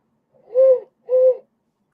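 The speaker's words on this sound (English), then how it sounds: "this handy dandy thing that makes owl noises" Two short hollow hoots, one after the other, a mellow owl-like call blown on a small wooden whistle.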